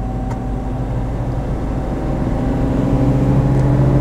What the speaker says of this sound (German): Macht auch die Steigung ganz gut. Das ist schon ein recht kräftiger Motor gewesen.